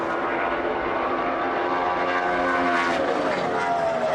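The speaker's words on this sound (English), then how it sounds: "it sounds like the clutch is going in and the engine's shutting off on the car" A NASCAR race car at the 2011 Hollywood Casino 400 drones steadily as it heads into turn three, then its engine note drops away as the clutch goes in and the engine cuts out.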